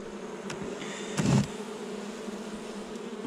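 Honeybees hum steadily at an open beehive during a November hive inspection, a low, close buzz that swells briefly louder midway through.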